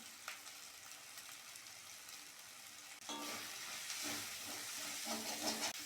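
Spice masala for a dhaba-style egg curry sizzles in a pan, first with a soft, steady hiss, then with louder frying and stirring scrapes from midway on.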